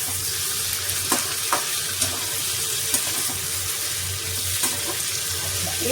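Chili chicken stirred with a little sugar in a hot pan, constant sizzling with occasional sharp scraping strokes of a spoon against the pan, close and fairly loud, no talking.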